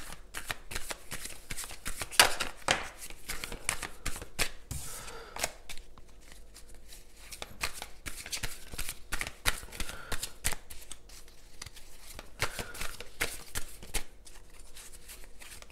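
Tarot cards are shuffled by hand up close, a quiet run of rapid riffling bursts and soft slaps repeating with short pauses in between.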